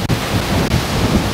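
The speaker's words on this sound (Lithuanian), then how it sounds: "Šiandien Bahreinė žiaurus vėjas." Strong wind in Bahrain buffets the microphone with a continuous, loud roaring rush, broken by two brief dips.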